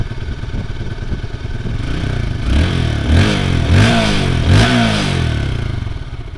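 A motorcycle engine starts and idles, then is revved four times in quick succession, each rev rising sharply and falling back, loud and close.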